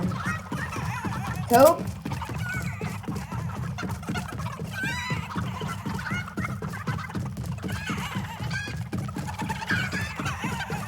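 Chickens cluck repeatedly in the video game Fortnite, a steady pattern of soft close clucks over a rhythmic background, with a brief spoken word near the start.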